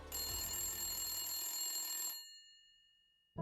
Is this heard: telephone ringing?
yes